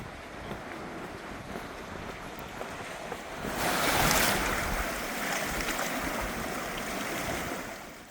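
Ocean waves wash onto a natural beach in Yeongdeok, South Korea, in a steady roar, swelling into a louder crashing surge midway before settling back into continuous surf.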